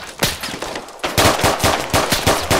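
Rapid gunfire in the Arma 3 military simulation game during an indoor SWAT room-clearing raid, a steady run of close, loud automatic shots.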